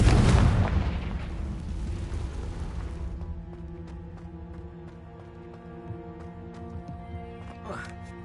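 In the video game Hogwarts Legacy on PS4, the Confringo fire spell sets off a loud, deep explosive boom that decays into a rumbling tail, followed by quieter game sounds and clicks.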